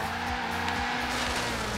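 A car in a racing video game brakes hard into a corner: a continuous engine drone with shifting pitch and screeching, skidding tyres, steady and fairly close, with no voices.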